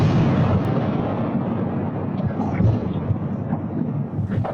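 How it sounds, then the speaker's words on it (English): A massive, deadly industrial explosion at a plant in northwest Houston, caught by a home Nest security camera: a deep, booming roar that rolls on and reverberates for several seconds, heard from a distance. "That was the sound of that explosion."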